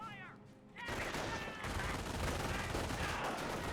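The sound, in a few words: MG 42 machine gun firing in Company of Heroes video game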